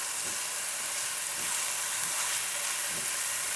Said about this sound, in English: you can hear the onions are starting to sizzle on the skillet